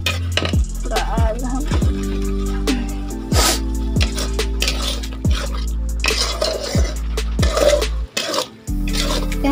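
Garam masala powder roasting in a pan for Odisha-style jackfruit curry, stirred with repeated loud metallic scrapes and clangs of a spoon against the pan in an uneven rhythm, close up with no talking.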